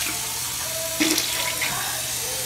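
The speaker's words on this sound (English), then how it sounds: "Make sure you rinse your mouth." Tap water runs steadily into a sink during mouth rinsing, a soft continuous splashing with a brief louder burst of spatter midway.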